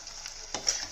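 Prawn masala with dried chili flakes is stirred in a pan, giving a soft, brief sizzle and one quick scraping stir, close and faint.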